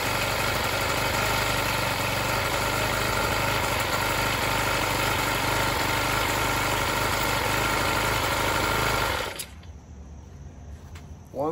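A small engine on a budget motorcycle build idles steadily and fairly quietly at close range for about nine seconds, then shuts off, leaving near silence.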